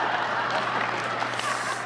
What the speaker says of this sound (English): we're gonna applaud the BlackBerry